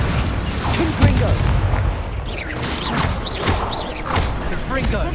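Repeated Confringo blasting-spell explosions in the video game Hogwarts Legacy, a series of booming thuds every second or so amid busy combat effects and swooshing magic.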